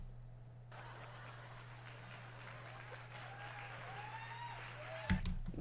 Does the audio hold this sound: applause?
yes